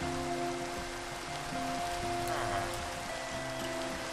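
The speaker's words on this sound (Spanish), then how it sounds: "Aquí bajo la lluvia." Steady rain in Minecraft patters throughout, mixed with sustained tonal background music.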